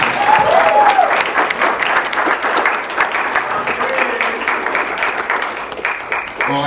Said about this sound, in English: Give another round of applause for Amounza